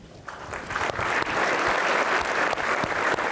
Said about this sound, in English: Let's give our elected officials another round of applause for all their work that they do for our community.